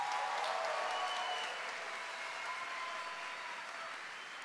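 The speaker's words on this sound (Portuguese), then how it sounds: "Uma salva de palmas para o Papa Bento XVI." Applause from a church audience, a dense crowd of clapping hands that starts strong and slowly fades over a few seconds.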